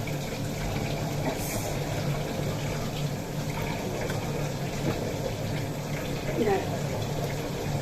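A kitchen chimney exhaust hood runs beside a lit gas stove while prawns and pointed gourd fry, giving a steady, dense broadband whoosh and hiss that holds level throughout with no pauses.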